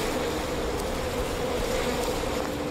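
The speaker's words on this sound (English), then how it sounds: "More bees." Constant dense buzzing of a swarm of bees in the video game We Happy Few, a steady loud drone with no pauses and no talking.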